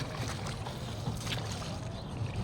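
Boats on the river at Triveni Sangam at sunrise make a steady, continuous wash of engine and water noise, fairly close and unbroken, with no voices.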